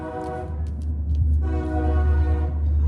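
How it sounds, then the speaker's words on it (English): A train passing close by, its horn sounding in loud sustained blasts over the low rumble of the rail cars. "Oh, that train coming by."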